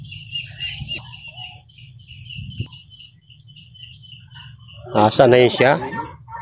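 Chickens and bantams at a farm in Tagaytay give intermittent chirps and clucks, one louder call near the end, while people talk nearby over a low background hum.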